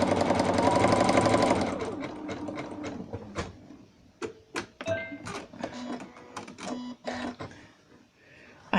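A sewing machine stitches a wide zigzag on a cushion form in a loud continuous run lasting about two seconds, then falls silent apart from scattered clicks, handling knocks and brief mechanical taps.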